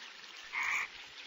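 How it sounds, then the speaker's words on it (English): A single male frog croaks once during the monsoon breeding season, a short raspy call rising clearly above a faint steady background hiss. "With the onset of the monsoon, it is common to hear croaking sounds."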